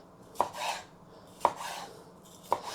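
Capsicum being cut with a knife on a board, three distinct chopping thuds spaced about a second apart, close and clear with quiet in between.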